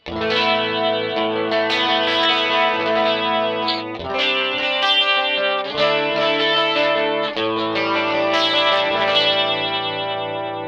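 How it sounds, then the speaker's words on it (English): An electric guitar plays chords through a heavily processed Rockman-style amp tone, gritty with nasty breakup and chorus-like shimmer, sustained and loud throughout with brief pauses. "You can hear there's this kind of like nasty breakup on there."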